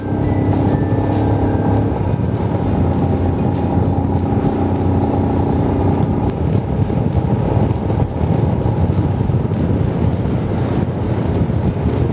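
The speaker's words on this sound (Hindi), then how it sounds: "थोड़ा खुला स्ट्रेच, थोड़ा बाइक का इंजन खोला जाए।" A motorcycle engine revs on an open stretch of road on a Leh-Ladakh ride, giving a loud, continuous, close roar mixed with wind rush that holds steady throughout.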